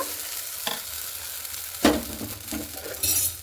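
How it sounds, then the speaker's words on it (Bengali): A spoonful of puffed-rice batter for chitoi pitha poured into a hot pan, with short scraping and sizzling bursts that rise briefly and then fade, heard close with no talking. "এবার আমি এক চামচের মতো এখানে ব্যাটার দিয়ে দিব"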